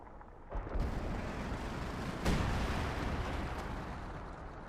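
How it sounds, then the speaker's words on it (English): An artillery strike in the Company of Heroes 2 video game, heard as heavy booming blasts with rumbling debris, a first impact followed by a louder second explosion that rolls on and slowly fades, with no talking. "I'm guessing that's the artillery strike"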